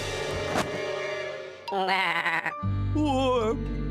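Cartoon sheep bleat loudly in two wavering, drawn-out calls, following a burst of other noise at the start.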